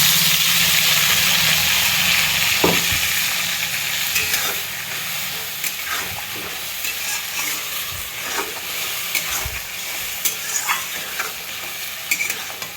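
A paste of ginger, garlic and cumin with salt, turmeric and chilli powder sizzles in a hot pan, a steady frying hiss broken by scattered spoon scrapes and clinks as it is stirred.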